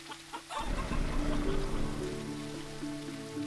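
Rain patters steadily across surfaces in the cozy shop sim game Teddy's Haven, a continuous soft hiss that swells in after a brief quieter start, with faint clucking from chickens nearby.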